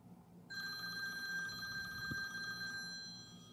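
A phone rings in the Roblox game Adopt Me: a steady, bright electronic ring starts abruptly after a brief pause and repeats evenly for about three seconds, alone and close.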